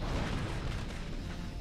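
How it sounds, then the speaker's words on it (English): An explosion rocks the corridor of a massive assault ship whose hull has broken in half and is sinking, a dense, sustained rumbling blast filling the whole clip with heavy low-end roar. "An explosion rocks the corridor"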